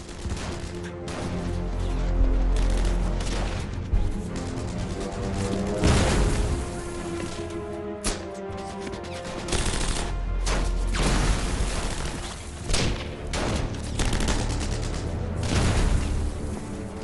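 Battle gunfire in a World War II fight at Brest: scattered rifle shots and heavier booms crack out irregularly over a rumbling background, some near and loud, others more distant, with no voices.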